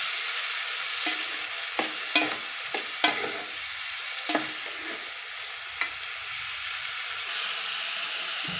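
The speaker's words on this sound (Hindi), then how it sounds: "सेम की फली अच्छे से ऑयल में भून रहे हैं।" Broad beans frying in oil, a continuous soft sizzle with repeated spatula scrapes and clicks at irregular intervals, close by with no talking.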